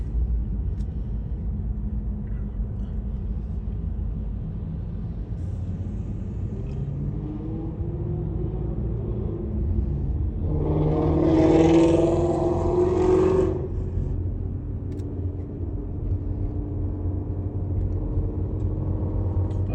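A car drives slowly through Miami city streets in the Overtown area, a steady low rumble of engine and road noise throughout, swelling briefly as a louder vehicle passes nearby midway, with no talk.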